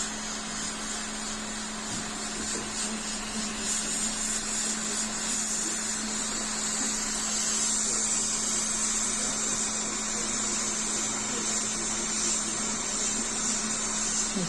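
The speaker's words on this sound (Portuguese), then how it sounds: "aqui tem que jogar calor no componente mesmo, até a solda dele derreter e eu remover o componente" Hot air rework station blowing onto a component on an Asus AMD X570 motherboard to melt its solder: a steady, even airflow hiss and hum running unbroken throughout, close and without talk.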